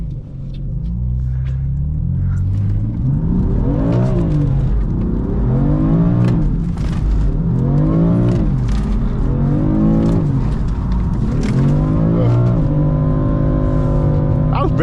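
A BMW M4 revs hard in second gear while sliding on a rainy road, its loud engine rising and falling in repeated surges close by, with tyre noise mixed in.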